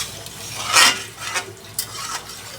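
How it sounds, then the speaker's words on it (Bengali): A spoon stirring fish broth in a cooking pot, making a few soft scraping swishes and light metallic clinks at close range in a quiet kitchen. "ঝোলটা আমি একটু নেড়েচেড়ে মিশিয়ে দিচ্ছি"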